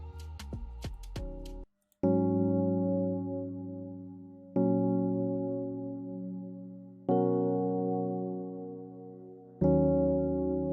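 Vintage EP electric piano from the Purity plugin in an FL Studio dancehall-style beat remake, first a quick run of short notes, then four sustained chords struck every two to three seconds, each ringing warmly and fading, close and clean with no voices.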